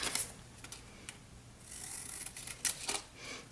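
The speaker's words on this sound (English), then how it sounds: "These are my fringe scissors, and I'm just going to cut" Fringe scissors snip through green paper in quick, faint crisp cuts, a few short bursts close to the microphone with quiet pauses between.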